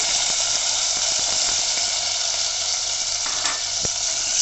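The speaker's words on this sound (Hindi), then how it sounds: "अब इसमें मैंने जो ये प्याज चॉप करके रखा है बड़े बड़े टुकड़ों में, ये मैंने डाल दिया" Steady, close sizzling and crackling of large-chopped onions frying over medium flame in a hot pan, with occasional stirring clicks and no talking.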